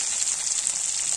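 Tomato and spices fry in a pan for a Bengali cauliflower and meat curry, giving a steady, close, loud hiss that holds without a break, with no voices.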